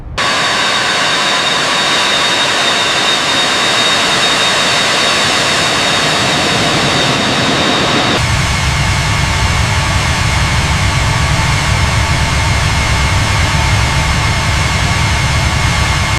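Aircraft engines roaring at takeoff thrust, a loud, broad, steady jet rush that swells in its low rumble partway through and stays close and continuous.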